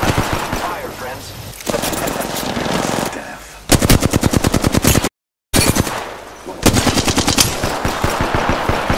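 Automatic gunfire in Apex Legends on Xbox One rattles in rapid, closely spaced bursts, with a short pause at the midpoint before more steady volleys; a voice is faintly present at times.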